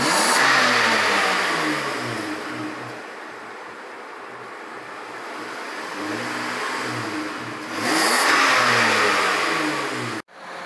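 A car engine runs during an HHO hydrogen carbon clean on a cold day, its steady mid-pitched drone rising in two revs near the start and end and easing between them before cutting off sharply near the end.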